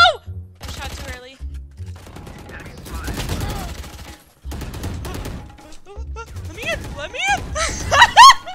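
Gunshots in the Valorant video game, coming in several clustered bursts separated by short gaps, loud and close, with talk and shouting mixed in between them.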